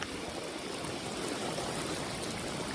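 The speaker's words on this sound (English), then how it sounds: "That's how much water is rushing through the driveway." Storm runoff rushes across a driveway toward a creek in a steady, loud, broadband wash of water, continuous and close with no letup and no voices.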